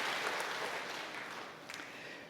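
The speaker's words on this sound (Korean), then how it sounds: "여러분께 박수로 환영하시지요" A church congregation applauding in welcome during a service, a steady wash of many hands clapping that fills the whole stretch and fades slightly toward the end.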